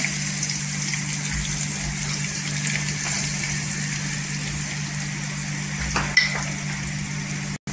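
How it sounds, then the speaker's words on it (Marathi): Curry leaves and chopped onions fry in oil in a pan, a steady close sizzle that runs unbroken from start to finish with a few faint clinks, and nobody speaks over it. "कढीपत्ता छान असा तरतरला पाहिजे"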